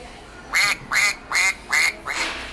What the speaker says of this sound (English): That's the duck.